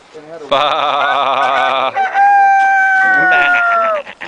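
A person imitates a rooster's crow, a loud stretched cock-a-doodle-doo with wavering pitch, followed by squawking bird-like calls.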